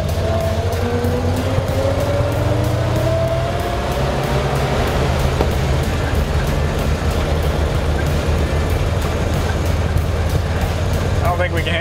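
A 1940s barn-find fire truck drives along loud and close, its engine droning steadily while gears are shifted, with a rising whine early on and people talking over the noise.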